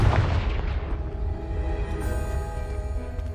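Confringo spell explosion blasting apart a blocking pile in Hogwarts Legacy, a single loud, deep boom at the start that decays into a lingering rumble with a soft tonal hum.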